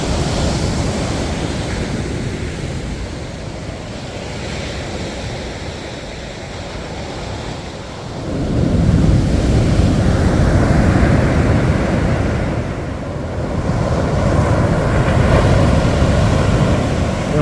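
Ocean surf rolls onto a beach along the Lost Coast Trail, a loud continuous wash that swells as a wave breaks, mixed with wind buffeting the microphone.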